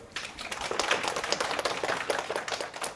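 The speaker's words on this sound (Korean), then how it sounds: "박수 한번 쳐주세요." A room of attendees at a prenatal class claps for prize winners, a lively, dense burst of many hands with sharp, rapid slaps continuing evenly throughout.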